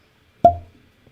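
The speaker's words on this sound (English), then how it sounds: "pause for cork pop" A single sharp pop as the cork is pulled from a bottle of Tin Cup rye whiskey, close and clear in an otherwise quiet room, followed by a short hollow ring.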